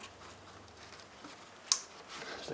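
A single sharp click of an electrical connector snapping onto the anti-shutter valve of a VW TDI MK5 engine, heard once midway through faint background hiss.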